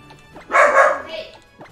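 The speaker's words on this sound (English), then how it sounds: "Sorry for the barks." A dog barks nearby with one loud, drawn-out bark and a fainter follow-up, heard over quiet room tone during a Pokémon gameplay session.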